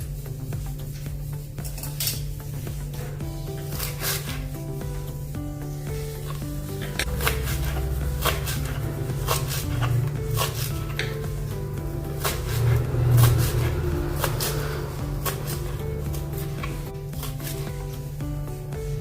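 Knife chopping fresh coriander leaves on a board in a home kitchen while preparing aloo daliya tikki, repeated sharp taps in a steady rhythm over a constant low hum, with clattering utensil sounds.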